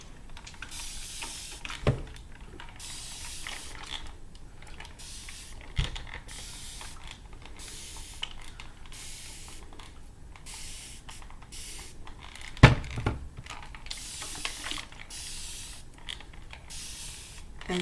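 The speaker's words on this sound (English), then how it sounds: "starting with just plain water in our mister." Repeated short hissing bursts from a spray bottle misting plain water onto twisted hair, about a dozen quick sprays at an uneven pace, close and fairly quiet.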